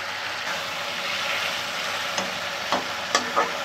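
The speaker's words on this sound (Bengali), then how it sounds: "একটু আমি কাঁচা মশলাটা ভেজে নিই।" Raw spice paste frying in a pan for a Bengali fish curry with potato and cauliflower, a steady close sizzle broken by a few sharp scraping stirs near the end.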